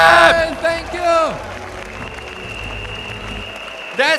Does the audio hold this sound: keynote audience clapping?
yes